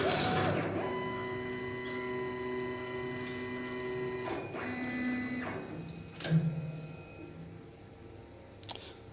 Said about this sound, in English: we can accept that program, and the machine will go away and set